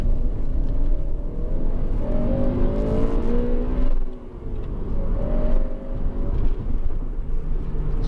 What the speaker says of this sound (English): very few engines sound as nice as the Hondas when they rev